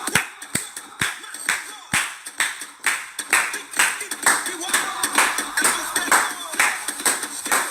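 Rhythmic hand clapping from a Zumba class, steady and fairly loud, with a few sharp claps standing out over background noise and music.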